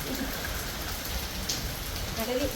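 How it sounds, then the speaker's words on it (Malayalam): Heavy rain falls in a steady, dense roar from start to finish, with faint voices briefly audible underneath. "ഭയങ്കര മഴയാ"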